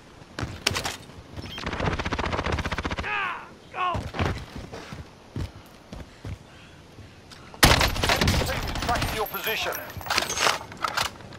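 Call of Duty Warzone gunfire crackles in loud, rapid bursts with short pauses between volleys, close and sharp, alongside occasional muffled voices.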